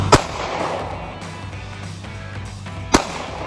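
Two sharp gunshots from a handgun at shooting practice, close and loud, spaced about three seconds apart with a quiet room hum between them.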